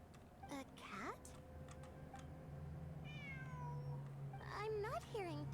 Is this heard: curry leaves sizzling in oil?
no